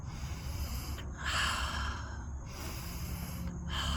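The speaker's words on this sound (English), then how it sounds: "it could just look like deep circular breathing" Deep, fast breathing demonstrated in a breathwork session, with loud, continuous airy rushes of connected inhales and exhales and brief pauses between them, close and alone with no talking.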